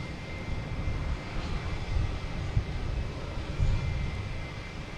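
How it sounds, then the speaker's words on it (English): A JetBlue Airbus A320 jet takes off at Boston Logan Airport, a steady distant engine roar rumbling low and evenly throughout. "we have JetBlue taking off, heading to Charleston"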